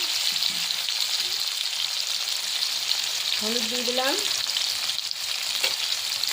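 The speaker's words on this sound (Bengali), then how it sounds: "গাটি কচুগুলো ভেজে নেব" Boiled taro frying in oil in a pan, a loud steady sizzle filling the whole stretch while a voice speaks briefly over it.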